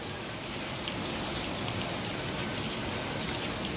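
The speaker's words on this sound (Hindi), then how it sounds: "देख सकते हैं यहाँ पे कितनी ज्यादा बारिश हो रही है" Heavy rain pours down steadily, a dense, loud hiss of drops hitting surfaces with no break, and no voices.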